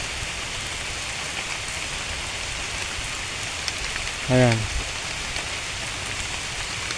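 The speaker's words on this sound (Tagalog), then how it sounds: "inabot na rin tayo ng ulan" Steady rain pours outdoors in the tropical dry season, a dense continuous hiss throughout, with a brief voice cutting in midway.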